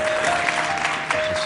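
A TED talk audience claps briefly in a burst of scattered applause.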